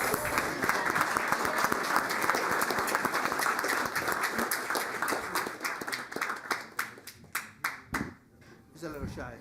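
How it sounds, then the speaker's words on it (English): Audience applause at a city council meeting, a sustained dense round of clapping from a crowd that thins into scattered individual claps and fades out near the end. "Let's give the baby a round of applause."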